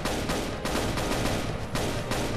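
Video game gunfire in a fight against animatronics, dense bursts of rapid automatic shots in quick succession with brief gaps between volleys, loud and close, no talking.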